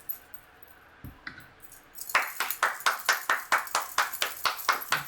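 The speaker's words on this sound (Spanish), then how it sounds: "siempre a Él se le aplaude con las manos en alto" A crowd claps in steady rhythm with hands raised at a religious gathering, a few scattered claps at first, then a loud, even run of about a dozen beats.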